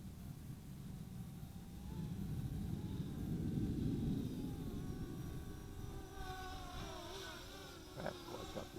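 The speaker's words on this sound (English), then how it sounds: "That's Quadcopter, isn't it?" Quadcopter drone, a 3D X6 Plus GPS FPV model, whirring steadily nearby with its motor pitch wavering and rising toward the end, over faint outdoor background.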